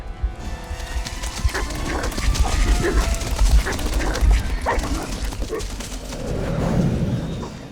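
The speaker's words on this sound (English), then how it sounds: "Unleash the dogs." Dogs bark and yip in a tense fantasy action film scene, loud and close, with repeated sharp barks, a whimper, and scuffling or hoof-like thuds mixed in.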